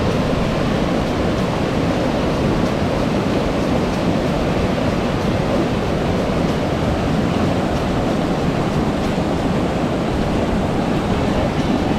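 Steady, broadband rush of white water in an Eastern Oklahoma trout river in winter, loud and constant without pauses.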